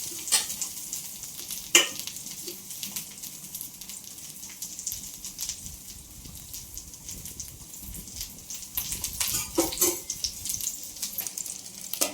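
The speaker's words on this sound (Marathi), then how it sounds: "बघूया कुठंपर्यंत भाजून झाल्यात आपले" Alu vadi frying in a pan over a wood-fired chulha, a continuous close sizzle and crackle of hot oil with a few sharp pops and stirring sounds, no talk.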